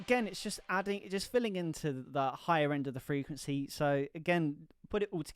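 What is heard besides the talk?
None of the usual background noises is heard.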